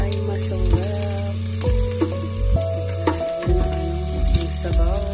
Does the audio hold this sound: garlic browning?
yes